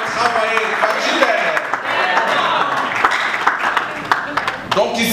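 Applause from an audience filling a hall at an award ceremony where government members receive trophies, steady clapping throughout with crowd voices and cheers mixed in.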